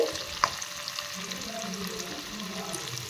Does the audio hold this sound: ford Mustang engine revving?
no